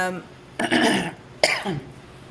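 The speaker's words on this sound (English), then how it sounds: "Sorry for all my coughing." Two harsh, close coughs from a man, about a second apart, each a loud rasping burst that trails off, with a bit of speech just before them.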